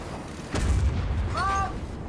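A sharp, loud explosion bursts in a World of Tanks battle, followed by a brief rumbling tail and a short tonal ring from the game.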